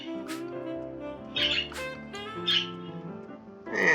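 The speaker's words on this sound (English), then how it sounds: "And the birds sound like they're having a good time." Cartoonish birds squawk and chirp in bursts over a looping melodic game soundtrack in Wizard of Legend, several calls rising and falling within a few seconds.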